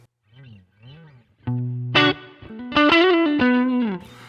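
Clean electric guitar tone through a Line 6 Pod Express: a few soft plucked notes, then louder sustained chords and single notes ringing clearly, alone without talk.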